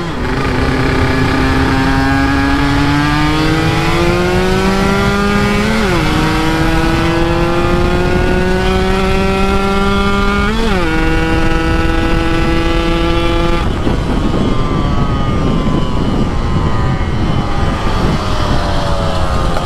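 Motorcycle engine revving loudly and close, rising and falling in pitch through several throttle blips before easing off near the end, with a voice faintly beneath.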